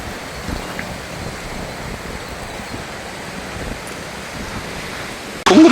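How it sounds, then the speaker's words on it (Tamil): Water runs steadily through an irrigation channel in a large chili field in Jaffna. It makes a soft, even rush at moderate level with no speech, and a sudden loud knock comes at the very end. "இங்கே பாருங்க, வாய்க்காலால் தண்ணி போகுது"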